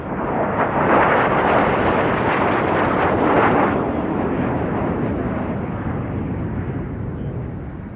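Three Folland Gnat jets fly past in formation at an airshow with a loud, broad jet roar that swells over the first few seconds and then slowly fades as they move away.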